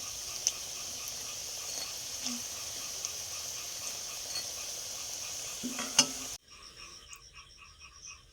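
Pakoras frying in hot oil give a steady close sizzle with small pops, which drops to a quieter bubbling near the end.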